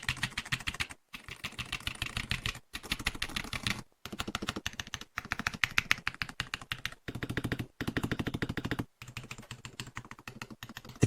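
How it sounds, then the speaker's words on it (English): Close, brisk typing on a mechanical keyboard with dual-end drivers: steady runs of crisp clacking keystrokes broken by short pauses, with no voices. "Let's briefly listen to the typing sound."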